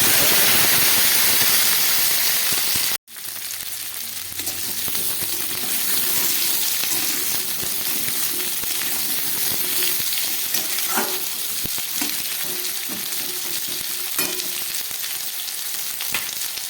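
Potatoes and pumpkin hit hot oil in a wok (kadai) with a sharp burst, then settle into a loud, steady sizzle and crackle with occasional stirring clicks.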